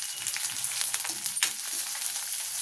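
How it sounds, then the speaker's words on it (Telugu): Sliced onions frying in a pan for a ridge gourd and moong dal curry, giving a steady, close hiss of sizzling oil with a brief stir partway through and no talking. "సన్నగా కట్ చేసి పెట్టుకున్న ఉల్లిపాయ మంచిగా ఫ్రై అవ్వాలి"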